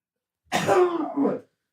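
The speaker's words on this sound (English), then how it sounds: "This podcast, I'm gonna cough a lot" One short, harsh cough or throat clear, close and fairly soft, with silence on either side.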